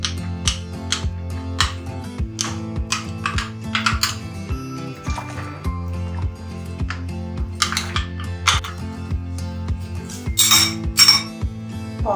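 A spoon stirs cornflour paste in a bowl, mixing it smooth for chicken vegetable soup, giving rapid light clinks and scrapes in an irregular rhythm over a low steady hum, close and clear.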